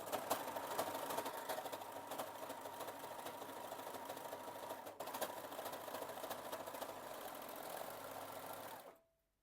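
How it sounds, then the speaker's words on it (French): A serger overlocks a sleeve seam, its motor running at a steady, fast, continuous buzz for about nine seconds before cutting off abruptly at the end, close and fairly loud with no talking. "Là, je replace ma manche endroit contre endroit et je surjette"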